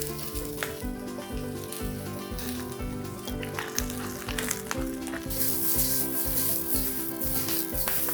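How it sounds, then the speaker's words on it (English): Brussels sprouts sizzle in hot peanut oil in a pan with a bright, continuous crackling hiss, while a rhythmic pulsing backing track plays underneath. "So you can see it immediately hits the pan, it gets some color."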